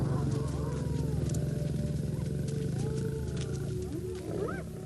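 Lions and hyenas in the African night roar and howl together, deep sustained roaring mixed with rising and falling whoops, loud and continuous with no pauses.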